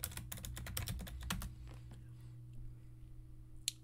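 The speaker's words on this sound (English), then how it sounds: "Type in root and then password." Fast, close keystrokes on a computer keyboard clatter in a quick burst, then thin out to a few scattered taps and a final sharp key press over a low steady hum.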